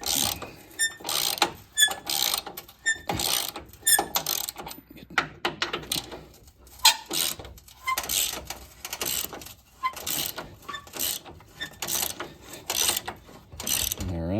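A ratchet wrench loosens the bolts of a Ranch Hand bumper guard on a 2011-2016 truck, its rapid clicking coming in repeated close bursts with short pauses between.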